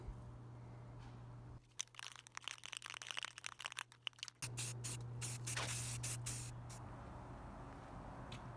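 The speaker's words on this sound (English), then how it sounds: "I have started the first coat of sweet flat black Rust-Oleum" Close hissing bursts from an aerosol can of flat black Rust-Oleum come as an iron railing is spray painted. The short sprays are irregular at first, then longer, more sustained hissing follows, with a low steady hum underneath.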